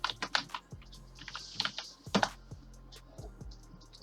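A command being typed on a computer keyboard: close, quiet, irregular keystroke clicks in short flurries with brief pauses between them.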